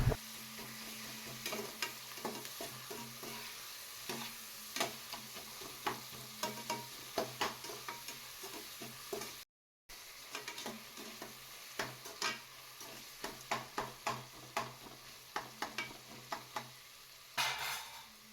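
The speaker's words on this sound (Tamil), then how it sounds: "அந்த 2 தக்காளியும் போட்டு நல்லா வதக்கி விட்டுடலாங்க." Tomatoes and onions sauté in oil for mushroom biryani, with a steady low sizzle under many sharp spatula scrapes and taps, a brief silence midway, and no talking.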